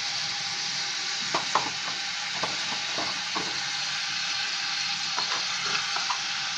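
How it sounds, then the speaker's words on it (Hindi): Beef trotters fry with turmeric in a pot over high-to-medium heat, giving a steady close sizzle broken by scattered crackles and pops from stirring, with no one talking. "इसको अच्छी तरह से भूनना है, इसकी भुनाई करते रहना है"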